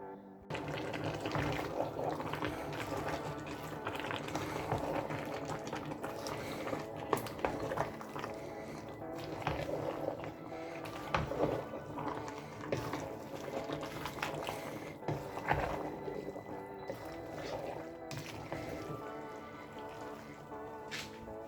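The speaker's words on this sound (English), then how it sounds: "I'm just going to leave this to boil" Nigerian okra soup base left to boil in a pot, giving a steady, busy bubbling and dripping that runs unbroken at moderate level with no talk.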